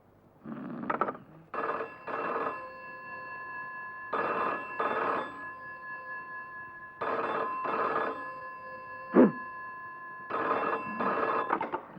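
A telephone rings repeatedly in paired electronic trills with short pauses between, clear and close, with one sharp knock midway.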